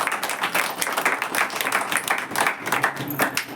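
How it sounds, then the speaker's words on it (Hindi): A church congregation clapping loudly together during an Easter service, a dense, steady wash of applause throughout, fairly close. "आइए हम लोग जोर से ताली मारेंगे।"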